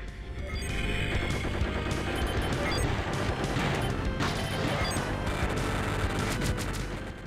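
The shoot-'em-up video game GalaX roars with dense, continuous gunfire and explosions, a loud unbroken barrage of blasts and crashes lasting several seconds, with no speech.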